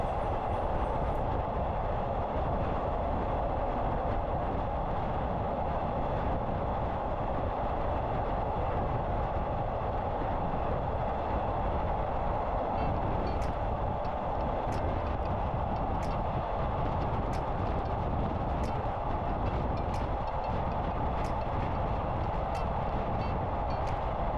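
A Thai train leaving Don Mueang station rumbles along an elevated track steadily at a constant moderate level, with faint periodic clicks of wheels over rail joints and no voices.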